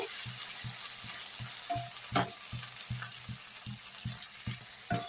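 Tomatoes frying in a pan over ginger-garlic paste for a chicken masala, a steady hiss of sizzling with a regular rhythm of stirring scrapes and taps against the pan, close and unaccompanied by talk.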